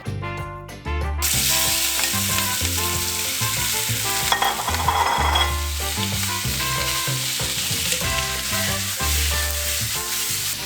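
Chorizo sizzles in a hot pan with oil under loud music that dominates throughout, with the frying hiss mostly buried beneath it.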